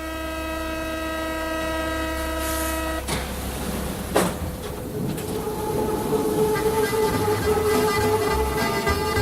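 A Paris metro train leaving Choisy: a steady tonal hum at first, then a sharp clunk, then rising rumble and rattle of wheels on rails as the train pulls away.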